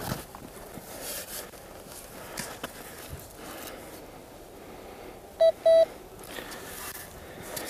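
A metal detector sweeping over buried metal sounds two short, clear beeps against faint outdoor background noise.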